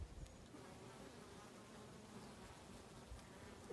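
Faint, continuous buzzing of bees, soft and steady with a low hum, as if a few insects hover nearby in a backyard.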